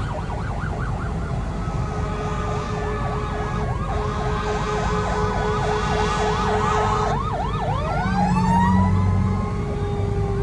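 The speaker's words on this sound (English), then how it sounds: "Yeah, here come the fire engines." Whitehall Fire Department fire engines pass with wailing, rising-and-falling sirens that stay loud and close. A second siren tone and a deep horn blast join as the trucks go by over low engine rumble.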